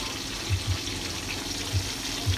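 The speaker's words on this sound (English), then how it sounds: "I pour my steamed tomato into the groundnut oil" Steamed tomatoes poured into hot groundnut oil while cooking chicken stew: a steady wet pouring rush with a few soft low splashes and thumps, close and moderately loud, with no talking.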